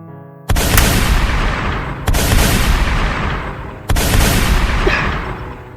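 Gunfire in a Hindi film scene: three loud, booming shots spaced about a second and a half apart, each followed by a long rumbling decay, with no talking.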